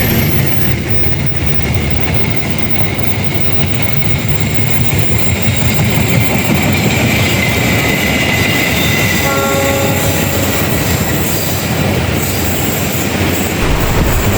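A train rumbles steadily past on the Bogor–Sukabumi railway, loud and continuous, with wheels clattering and a high squeal or horn tone rising partway through.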